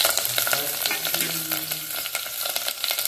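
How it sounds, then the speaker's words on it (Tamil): Onion, green chili and curry leaves hit hot oil with popping mustard seeds, producing a loud crackling sizzle and quick stirring scrapes. "கடுகு பொரியும் போதே நம்ம வெங்காயம் பச்சை மிளகா கருவாப்பில் எல்லாத்தையும் சேர்த்துக்கலாங்க"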